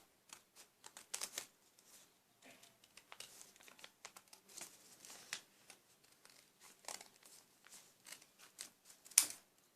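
Scissors snipping and paper crinkling while part of a paper mask is cut out; quiet, close, irregular rustles and cuts with one sharper snip near the end.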